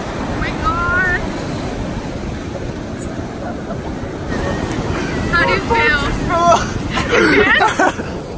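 Ocean waves washing in at a beach, a steady surf wash with wind buffeting the microphone throughout, while several people talk and shout excitedly over it.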